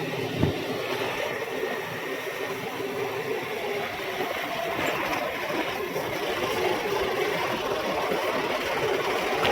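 Tractor pulling a rotavator through a farm field, a steady rumbling engine drone with a rough churning texture, running continuously at moderate distance.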